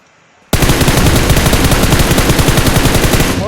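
Sustained automatic gunfire from PUBG Mobile bursts in suddenly after a brief quiet moment, a loud, rapid stream of close shots that continues steadily to the end.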